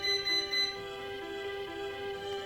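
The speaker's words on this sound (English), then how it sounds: "Ignore the beeping." Electronic alarm beeping in a steady pulsing pattern, thin and high-pitched, repeating through a quiet room background with no talk.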